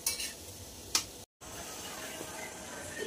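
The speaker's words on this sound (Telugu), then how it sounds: "జామున్స్ని బ్రౌన్ కలర్ వచ్చేంత వరకు ఆయిల్లో వేయించుకొని తీసుకోవాలి" Gulab jamun fry in hot oil until brown, giving a quiet, steady sizzle with a couple of faint utensil clicks and a brief dropout partway through.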